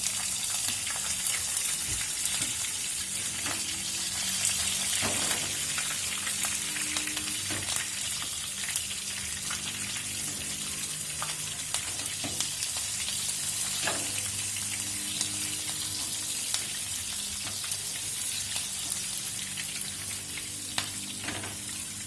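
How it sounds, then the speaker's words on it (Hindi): Garlic frying in a pan of hot oil for desi daal chawal, a steady close sizzle and crackle running throughout with small pops and occasional stirring clinks. "लहसुन थोड़ा सा फ्राई हो गया"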